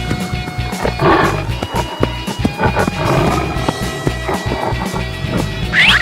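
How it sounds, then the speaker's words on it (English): A tiger roars in loud, rough, growling bursts close by, layered over busy rhythmic music that continues throughout. "Tiger."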